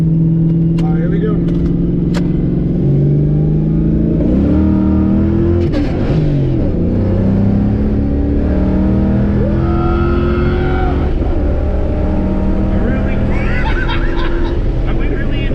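A stock 302 Ford Mustang with a 30-year-old nitrous kit accelerates hard, its loud engine droning steadily and rising through the gears, with people talking inside the car over the noise.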